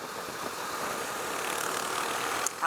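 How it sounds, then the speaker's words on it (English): A Husqvarna Svartpilen 401 motorcycle engine running at a steady hum that swells slightly before a sharp change near the end, moderately loud and close, no voices. "It's a nice engine."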